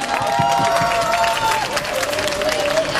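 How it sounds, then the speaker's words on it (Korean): Crowd at a Korean political rally in Daegu applauding loudly, a dense continuous wash of clapping that fills the moment with a steady roar, while a held tone runs underneath. "힘찬 발언해주신 최봉태 변호사님께 다시 한번 박수 부탁드립니다"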